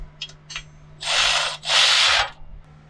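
A 13 mm bolt retightened with a ratchet wrench on a Jeep TJ Wrangler suspension, starting with a few light clicks and then two longer, loud bursts of rapid ratcheting close up, with no voices.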